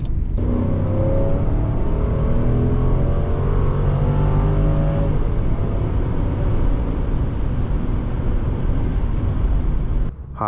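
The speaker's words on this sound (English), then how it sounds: "Today we are driving a 2004 Mercedes ML500" Steady engine drone from a 2004 Mercedes-Benz ML500 V8 on the road, heard from inside the cabin with rising and falling tones as it accelerates, continuous and fairly loud throughout without talk.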